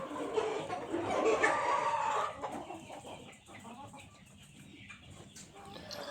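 Kuchinskiy Jubilee hens cluck, louder in a busy burst at first and then softer and more scattered, heard from a short distance and fairly faint overall.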